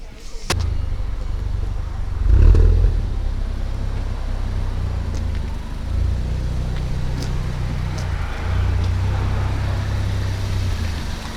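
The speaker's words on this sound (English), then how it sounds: "Exhaust leak." Car engine runs with an exhaust leak, giving a continuous low, throbbing idle that swells briefly a few times. It sounds close and steady, and no one talks over it.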